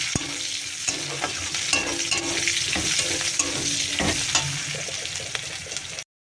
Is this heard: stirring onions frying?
yes